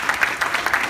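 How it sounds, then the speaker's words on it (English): Brief burst of audience applause at a Houston community event, dense clapping with a few louder swells, close and fairly loud. "So let's give her a great round of applause."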